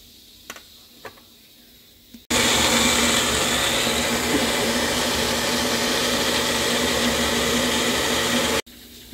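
A blender whirs through a mango pudding mixture of sugar, a little salt and milk, its loud steady motor roar starting abruptly after a couple of seconds of quiet and cutting off sharply near the end.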